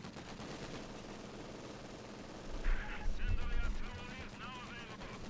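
Machine gun fire from a German MG bunker in the World War II strategy game Company of Heroes 2, a rattling burst of battle noise with low thuds, mixed under game effects and speech.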